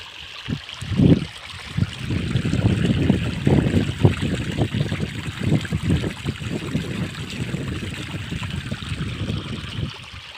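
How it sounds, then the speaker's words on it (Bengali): Irrigation water flows and splashes into an onion field, a steady outdoor rush with gurgling bursts and some wind buffeting, close and continuous. "তো আমরা সময় না পাওয়াতে আজকে পানি দিচ্ছি"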